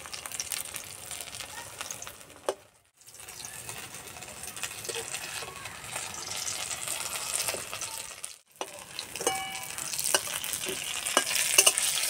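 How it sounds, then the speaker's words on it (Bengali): Snacks made from wheat flour fry in a shallow layer of oil, giving a steady close sizzle with frequent stirring and scraping and two brief silent breaks. "অল্প তেলে ভাজলে বেশি ভালো লাগবে যেহেতু এটা আঠার"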